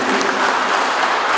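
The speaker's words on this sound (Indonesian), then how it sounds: "Tepuk tangan dulu" Loud, dense applause from an audience at a formal institutional ceremony, a steady wash of clapping hands throughout with no pauses.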